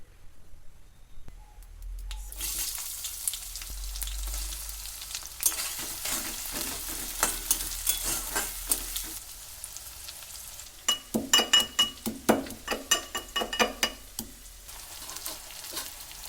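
Vegetable curry sizzling in a hot pan in a home kitchen, a steady frying hiss with rhythmic scraping strokes of stirring that grow sharper toward the end, with no talk.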